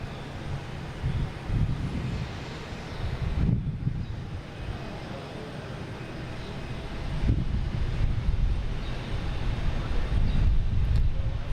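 An airplane arriving at Boston Logan International Airport, a steady low roar of jet engine and wind noise that swells and holds throughout, heard from a distance outdoors with no one talking.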